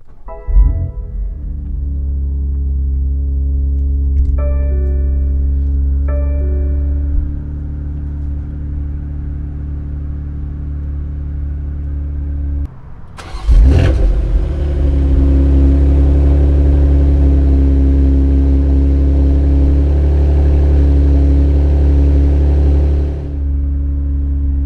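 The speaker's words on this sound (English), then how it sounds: "Let's start the vehicle." A BMW X3M engine idles with a deep, steady rumble and a short whirring tone at the start. Partway through it surges into a loud rev, then settles into a strong, steady drone, heard close with no talking.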